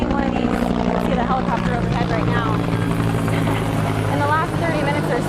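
A helicopter flies overhead at a brush fire, its steady rotor and engine drone loud and continuous throughout, with a low rumble underneath.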